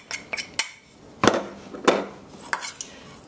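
Garlic parmesan chicken wings with chopped garlic and grated parmesan get tossed in a bowl, giving several sharp clinks and knocks spread unevenly, some louder than others, with no talking.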